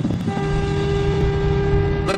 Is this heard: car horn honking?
yes